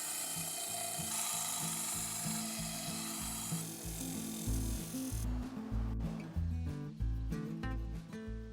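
An Inland flat lap machine used for polishing agate spins with a continuous mechanical whirring and gear-like rattle, its tone shifting partway through as the speed changes.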